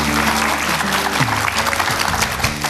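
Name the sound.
studio audience applause welcoming lecturer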